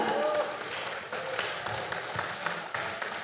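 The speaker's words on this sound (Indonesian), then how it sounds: "Mari kita beri tepuk tangan yang meriah." Applause at a stock exchange listing ceremony, a moderate crowd clapping steadily throughout, with a short spoken voice at the start.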